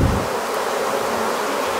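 Steady, dense buzzing of many honeybees, close and continuous, with no voices.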